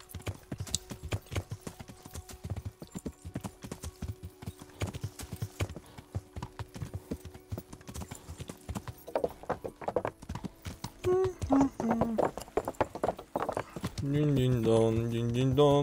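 Horse hooves clip-clop steadily while riding in Kingdom Come: Deliverance, a continuous close rhythmic patter under game music, with a voice briefly sounding near the end.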